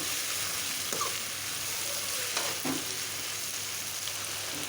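Tomato and coriander stirred in a frying pan for an eggplant curry, giving a steady soft sizzle with a few faint scraping stirs, close by and without talk.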